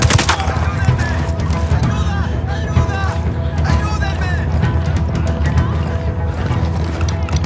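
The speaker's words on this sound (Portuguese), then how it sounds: "Tô atirando nesses bostas." Gunfire in the Ghost Recon Wildlands video game: dense, continuous bursts of shots, loud and close, with a constant background rumble and game voices talking over it.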